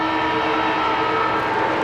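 An AFL quarter-time siren wails at a Carlton versus St Kilda football match, a loud steady tone that sounds continuously with crowd noise underneath and no commentary over it.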